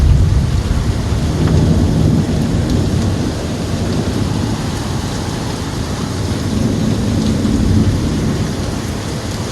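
A heavy thunderstorm in Tampa on a flooding street: loud, constant pouring rain with a deep, continuous rumble of thunder underneath, steady from start to finish with no voices.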